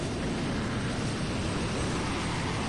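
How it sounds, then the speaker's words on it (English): Steady, broad whirring rotor and engine roar of a United States Coast Guard helicopter overhead in a video game, loud and unbroken throughout. "United States Coast Guard helicopter going above."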